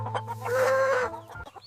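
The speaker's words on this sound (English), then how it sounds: "These are beautiful hens." Hens cluck on a farm, a short burst of loud, close, tonal calls lasting under two seconds over a steady low hum.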